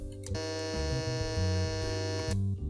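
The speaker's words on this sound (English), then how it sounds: "Great, the current now flows to the buzzer, as you can painfully hear." A harsh electronic buzzer in a bomb-defusal training video game sounds when a switch completes its circuit, a loud continuous rasping drone lasting about two seconds, then stopping sharply.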